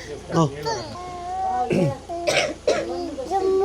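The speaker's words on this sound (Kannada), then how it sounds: "ಈಗ ಕೆಮ್ಮು ಜಾಸ್ತಿ ಆಗ್ತದೆ." A child coughs several times in short, rough bursts, close by, with brief vocal sounds between coughs.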